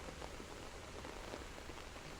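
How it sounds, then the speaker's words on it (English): Steady rain patters against a window glass, a dense continuous hiss of drops with soft scattered taps, even in loudness throughout and without voices. "Little raindrops fall on the window. Tap, tap, tap. Drip, drop."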